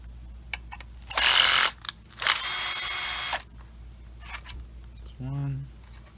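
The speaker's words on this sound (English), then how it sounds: "So go ahead and remove 4 screws." Screws being removed from the screen bracket of an Infiniti QX60 during a CarPlay install, heard as two short bursts of a powered screwdriver close by, followed by a small metallic clink.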